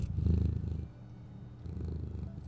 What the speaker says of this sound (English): He gives me chin rubs until I'm purring.